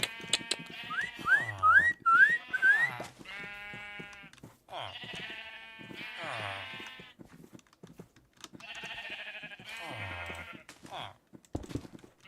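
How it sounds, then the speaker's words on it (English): Sheep bleating in Minecraft: repeated wavering, nasal bleats come close and clear in several clusters, with excited talking and some whistling mixed among them. "No, the sheep's getting out."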